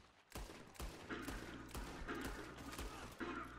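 Red Dead Redemption 2 gunfire comes as a rapid run of sharp, close shots, some overlapping in quick bursts, over a busy background with no clear talking.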